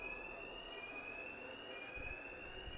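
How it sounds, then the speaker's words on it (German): Alarm ringing in the video game Batman Arkham Knight, a steady continuous electronic tone sustained loudly throughout with faint game ambience underneath and no talk. "Wegen des Alarms werden Two-Face-Schläger mich nicht hören"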